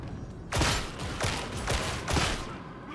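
Enemy gunfire in a Warhammer shooter game, several loud crackling bursts and volleys in quick succession over roughly two and a half seconds, close and sharp with no one talking.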